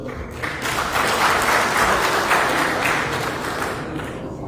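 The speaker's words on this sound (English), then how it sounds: "with a round of applause, invite our able moderator for this session" An audience at a Nigerian military combat service event giving a full round of applause, loud and dense, swelling briefly then holding steady before easing off.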